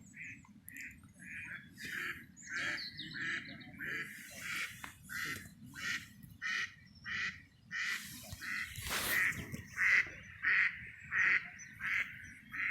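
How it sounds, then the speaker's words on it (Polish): Ducks quack repeatedly at a pond during a fishing outing, rhythmic bursts of calls at a moderate distance over a quiet background, with a brief louder flurry partway through. "Kaczki słychać."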